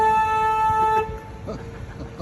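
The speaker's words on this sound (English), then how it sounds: "I am actually obligated to honk the horn right here" Boat horn on the San Antonio River at a floodgate: one loud, sustained, tonal blast lasting about a second, followed by echoing background noise and a faint voice.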